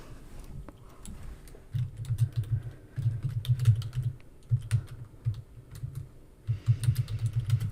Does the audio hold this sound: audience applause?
no